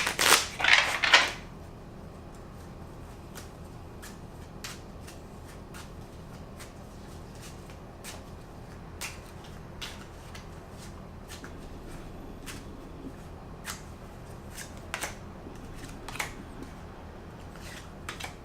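Tarot cards shuffled in a quick, loud burst of riffling and flicking at the start, then only sparse soft taps and card clicks against a quiet background.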